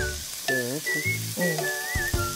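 Shredded zucchini and shrimp stir-fried in a pan give a steady, loud sizzle with faint whistling tones and occasional stirring scrapes, close up and heard alone.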